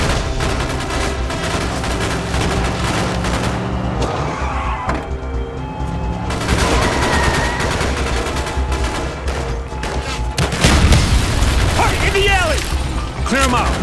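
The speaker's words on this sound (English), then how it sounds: "Bowman, Carlos, lay down covering fire." Sustained covering fire from squad weapons in Call of Duty Black Ops on the Wii, loud and continuous during a street fight, with bursts layered over vehicle rumble, music and shouted voices.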